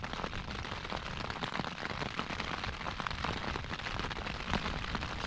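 Steady rain patters on a tent nearby during a wild camp, a dense, continuous hiss of drops with no voices, fairly quiet overall.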